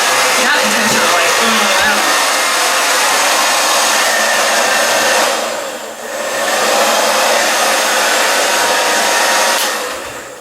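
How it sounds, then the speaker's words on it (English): A handheld hair dryer blows steadily and loudly, close by, while styling hair in hot rollers, with a brief dip in airflow around the middle before it resumes at full strength. "now what I do is I take the hairdryer"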